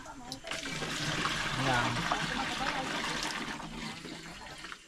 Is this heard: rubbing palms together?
no